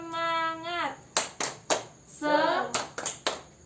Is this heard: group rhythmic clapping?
yes